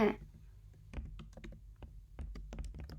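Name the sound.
typing on computer keyboard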